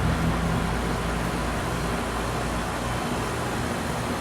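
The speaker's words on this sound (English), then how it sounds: "You can hear me over the air conditioners." Several air conditioners running together make a dense, steady broadband hum with a low rumble, constant and unchanging, with no voices.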